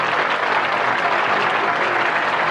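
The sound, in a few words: group applause for a student's grade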